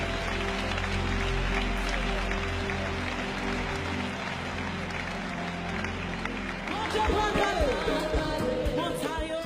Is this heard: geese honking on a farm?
no